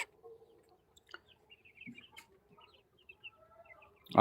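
Kuroiler chickens and fifteen-day-old chicks on a poultry farm, sparse faint clucks and soft chirps scattered across a quiet background, with a few light knocks.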